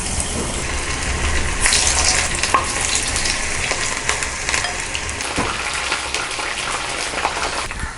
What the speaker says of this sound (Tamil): இப்போ நம்ம டீப் ஃப்ரை பண்ணிக்கலாம்.